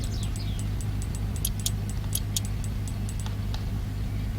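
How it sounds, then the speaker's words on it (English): Idling car engine in the video game My Summer Car with a spitting carburetor, a steady low hum and drone under a scattering of sharp, irregular ticks and clicks, with no talking. "The carburetor is spitting because there is fuel going into the carburetor."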